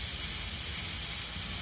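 Sprouted beans and chopped potato sautéing for Maharashtrian misal, giving a steady, close, even hiss of sizzling oil with no stirring strokes or voices.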